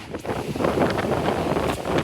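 Strong outdoor wind buffeting a phone microphone near the sea, a loud, continuous rumbling roar with gusty surges and no speech.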